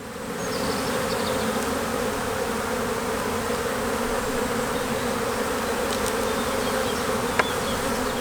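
Honey bees buzz steadily at an open beehive during a spring inspection, a dense, continuous drone close by that holds an even level throughout, with a brief sharp click near the end.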